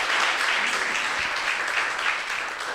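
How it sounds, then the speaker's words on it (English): Steady crowd applause at a university 3MT research presentation competition, a dense wash of many clapping hands held at an even level and tapering slightly at the close. "Let's give Privilege a round of applause"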